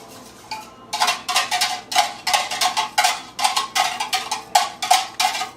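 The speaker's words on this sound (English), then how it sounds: "We're going to put the 2 cups of buttermilk in there. Mix them together." Whisk strokes beat egg yolks and buttermilk in a mixing bowl, a steady rhythmic series of bright clinking scrapes, about two per second, close and fairly loud with no talking.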